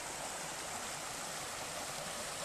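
A small babbling creek behind a campground rushes in a steady, dense, broadband wash of flowing water, close and unbroken, with no voices.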